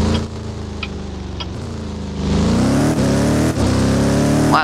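A vehicle engine in a police emergency-response video game revs steadily, its pitch rising and holding as it accelerates, loud and close with no talk over it.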